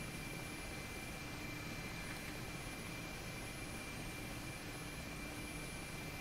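Mi-8 helicopter engines and rotor running steadily in the DCS flight simulator, a constant turbine whine and broadband drone with no change in pitch and no voices.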